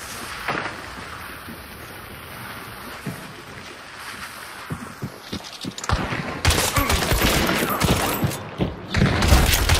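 Gunfire in the video game Hunt: Showdown, scattered shots building into heavier, louder volleys toward the end over a rumbling ambient background, with faint talk.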